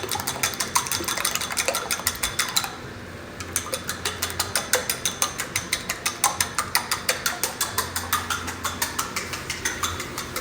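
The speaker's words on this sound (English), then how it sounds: "I got 1, 2, 3, 4, 5 eggs, and we just mix those up" Five eggs whisked briskly in a bowl for a breakfast tortilla: fast, even clicking strokes of metal against the bowl, steady and close, with one brief pause early on.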